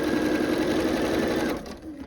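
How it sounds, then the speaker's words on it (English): Close, loud whir of a sewing machine stitching quilt fabric for a flowering prism quilt, running steadily and then slowing to a stop near the end. "Keep sewing."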